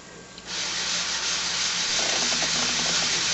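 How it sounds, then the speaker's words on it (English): Continuous abrasive scraping of sandpaper against a resin bangle bracelet, starting after a brief quiet moment and holding steady and close with a faint rhythmic rubbing stroke. "I'm going to keep sanding."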